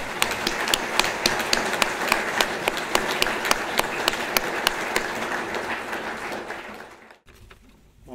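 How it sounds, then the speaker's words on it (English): Sustained audience applause after a memorial tribute, dense steady clapping with sharper individual claps standing out, carrying on for several seconds before cutting off abruptly. "I think you deserve a big round of applause."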